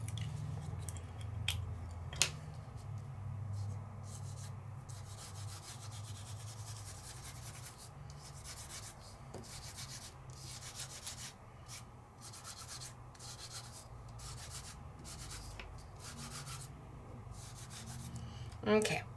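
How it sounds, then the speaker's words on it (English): An ink blending tool rubs ink over an embossed paper die cut in a papercraft class, a soft, steady run of quick scuffing strokes with a few light taps, close and quiet under a low background hum. "So let me try and ink this just a little bit"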